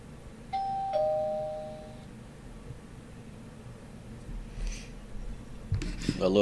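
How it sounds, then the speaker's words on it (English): A small chime bell in a futures trading room rings as a two-tone ding near the start, a 15-minute warning before the S&P futures market opens. It is moderately loud and clear, then fades to quiet room noise. "A little bell is just a 15-minute indicator before the market opens."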